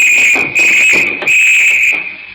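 A shrill, steady alarm blares in a radio drama scene, holding one piercing tone that cuts out briefly twice and then resumes, loud and close.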